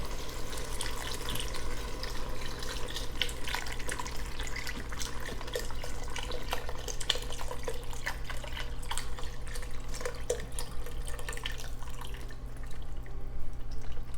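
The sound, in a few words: pouring beef broth into a pot for French onion soup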